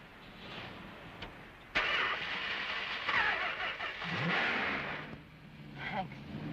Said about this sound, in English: Try and start the car now.